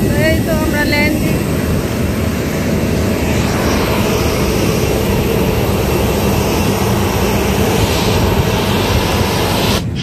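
Steady, loud roar of an airplane's engines heard from inside the cabin during landing, continuous throughout, with a voice talking briefly near the start.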